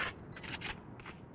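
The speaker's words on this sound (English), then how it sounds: "Reloading." A weapon reloads in Valorant with a few short, sharp mechanical clicks and scrapes close up. The sounds come in two quick clusters over a low, steady game background.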